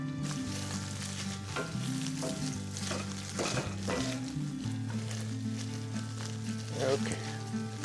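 Broth poured into a sizzling rabbit stew pot, with a steady frying hiss and bursts of stirring clatter under background music and a voice.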